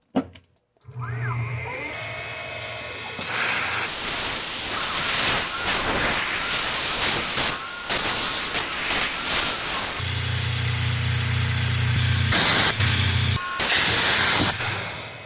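A 4-flute end mill machines a RAM air adapter, giving a steady, loud hissing cut that is broken by brief pauses and then resumes, with a low hum underneath.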